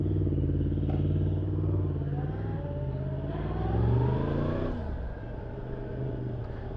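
A motorcycle on the Kirkstone Pass road in the Lake District runs close by, its engine revving up through rising tones and then easing off into a steady rumble as it rides away.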